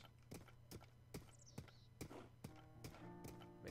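A horse ridden bareback in Zelda: Breath of the Wild clip-clops in an even trotting rhythm, about nine crisp hoofbeats close up, with a musical tone rising near the end.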